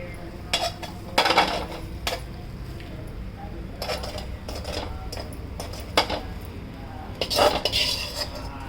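Mango rice is stirred in a pot with a metal spoon, giving intermittent scraping clinks and clatters in irregular bursts against a quiet kitchen background.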